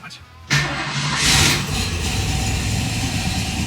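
A 1965 Ford Mustang fitted with Holley Sniper 2 fuel injection cranks briefly and fires, its engine catching with a sharp rise and a quick rev, then settling into a steady, loud idle close by.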